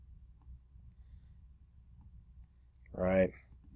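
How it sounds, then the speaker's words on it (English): A single quick mouse click sounds near the end of a quiet stretch while a website is being built on a computer, crisp and close over faint room hum. "So I click on the box, I click copy"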